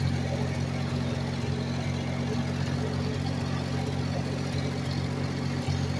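A Ford 4000 tractor engine runs steadily near the listener, a constant low diesel drone with a droning hum and faint rattly texture, level throughout with no talk over it.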